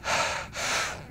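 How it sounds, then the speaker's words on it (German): An asthmatic person breathes heavily and close to the mic, two long, rough breaths in quick succession with no talking. "Und ihr hört vielleicht mein Schnaufen,"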